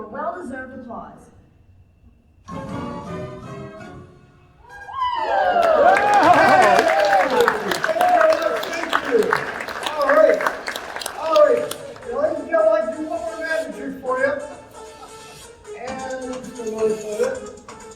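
Audience applause at a comedy magic show, with broad clapping and cheering that swells for several seconds over background music and mixed voices.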